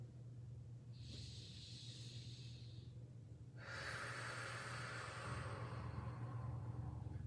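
Slow, steady breathing during a low back stretch, two long airy breaths, the second louder and closer, over a constant low room hum.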